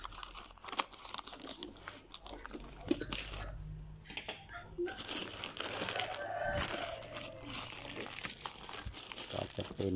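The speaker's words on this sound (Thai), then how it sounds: "ก็ใช้กรรไกรเล็กปัดเลย" Small scissors snip and cardboard crinkles up close as a black cordless drill box is cut open, with rustling and tearing in short irregular bursts.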